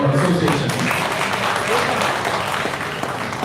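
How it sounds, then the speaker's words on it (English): Dense, steady applause from an indoor audience at an advocates' association gathering, sustained for a few seconds at an even level with no pauses. "Claps, big applause."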